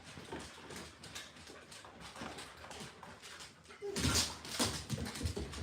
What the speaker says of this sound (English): We got all the dogs here right now.